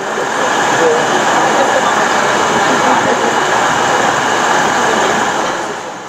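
A train rolls along the line from Hamilton toward a railway town, giving a loud, steady rumble and rush that holds level throughout.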